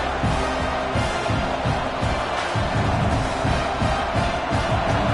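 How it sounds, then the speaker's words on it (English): A stadium crowd in a College Football 26 game, California at Washington, roars steadily behind the home defense during a red zone stand. The broad cheering sits at a constant loud level with no talk over it. "The crowd getting behind this defense as they try to get a stop in the red zone."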